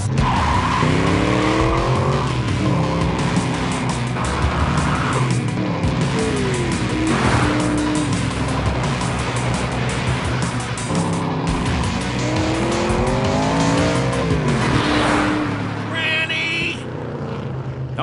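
A Tesla Model S launches hard in a drag race, loud tire squeal and rising electric whine repeating in several sweeping runs, with screeching skids and a car rushing past near the end.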